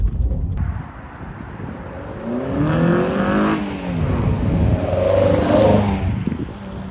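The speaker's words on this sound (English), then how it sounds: "With this engine though, the snorkel noise has definitely increased, but it's changed from an unpleasant noise to quite a nice one" A modified Fiat Panda 4x4 engine breathes through its snorkel, revving up and easing off in loud, close swells with a throaty intake drone and some wind buffeting.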